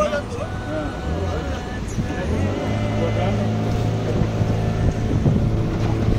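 A small Indian boat travels on coastal water along the Konkan coast, its engine a steady low drone with wind buffeting the microphone and faint voices in the background.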